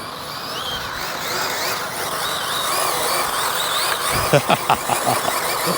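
An ARRMA Senton 6S RC car on stock gearing drives with a steady high-pitched motor whine that rises and falls, with a few sharp clicks and knocks near the end and no talk.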